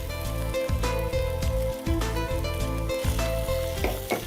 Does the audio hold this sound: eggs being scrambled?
yes